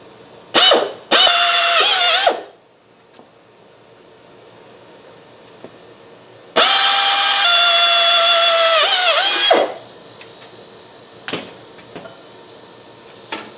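A power drill bites into metal plates in two short bursts, then one longer steady run with pitch dipping under load, followed by light clicks and handling.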